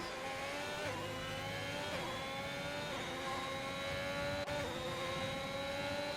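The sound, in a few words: Ferrari-powered race cars racing, from a racing video game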